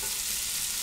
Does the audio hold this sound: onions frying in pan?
yes